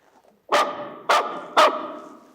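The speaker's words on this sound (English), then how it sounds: "You can't bring that dog indoors" Asta the dog barks indoors, three sharp, loud barks spaced evenly about half a second apart, close by.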